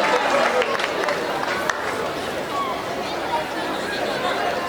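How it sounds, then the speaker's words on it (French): A crowd at a school investiture ceremony in Katshunga cheers and acclaims, a continuous roar of voices and clapping held at a steady level throughout. "Une salve d'acclamation pour son Éminence."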